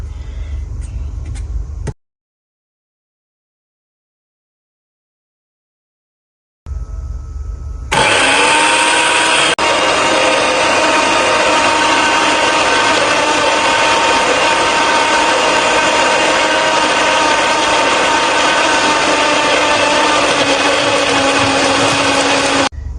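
After a short gap, an electric blender grinds ginger garlic paste with green chilli, milk and cream, a loud continuous whirring motor that runs steadily close up for over fifteen seconds.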